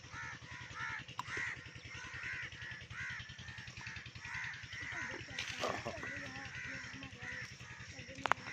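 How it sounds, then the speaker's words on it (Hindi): Several crows caw repeatedly and loudly, overlapping one another, while a Peter diesel engine thumps steadily underneath. "कौवे शायद हमारे यहाँ आने पे नाराज़ हैं।"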